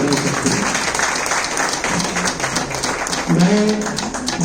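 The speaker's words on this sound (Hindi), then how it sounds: "आप सबके लिए आप बिल्कुल आखिरी बार ताली जरूर बजा सकते हैं" An audience at a Lions Club gathering in Nagpur applauds steadily throughout, a full room of clapping with voices rising briefly over it near the end.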